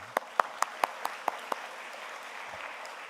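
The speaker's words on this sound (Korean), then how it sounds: "우리 한번 여러분 박수 한번 합시다." A small church congregation at a Sunday service gives a short, sparse round of applause, a handful of distinct claps spaced out over about a second and a half, then fading into quiet room tone.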